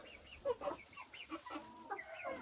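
A hen clucks just after laying an egg, a series of close, fairly faint, irregular clucks and short squawks in a quiet setting with no talking.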